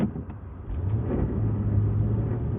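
A car engine hums and rumbles in snow, its low drone rising gradually as it revs up with traction control on, close and fairly loud.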